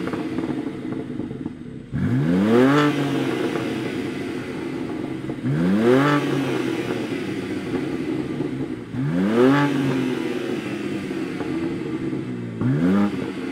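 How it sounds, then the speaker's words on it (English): A BMW M2 engine cranks to life and revs, repeating four times in a steady cycle, each start a sharp rising roar that settles into a rumbling idle, close and loud. "let's hear what the M2 sounds like when you turn it on"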